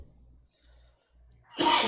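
A single sharp, loud cough bursts out after a few seconds of low, muffled background hum.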